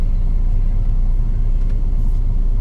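A 2019 Mini Cooper S 4-Door pulls hard on the road, its engine rumble loud and steady from inside the cabin, with no talking.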